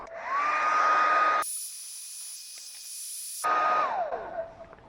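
A hair blow dryer heats a Kia emblem on a car panel, whirring up to a steady whine, cutting to a quiet stretch, then running again before winding down.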